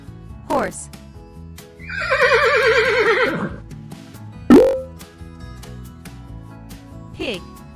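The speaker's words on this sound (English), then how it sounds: "Horse." A horse whinnies once, loud and close, a quivering neigh rising and falling for over a second, set among brief spoken words and soft background music in a children's animal-sound sequence.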